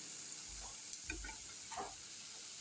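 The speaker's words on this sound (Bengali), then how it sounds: "শুধু লঙ্কা দিয়ে আর নুন দিয়ে আর কারি পাতা দিয়ে বড়াগুলো ভাজছি" Fritters of rice-flour batter with baking soda, chilli, salt and curry leaves deep-frying in hot oil give a steady, faint hiss and bubbling, with a few soft clinks over the continuous sizzle.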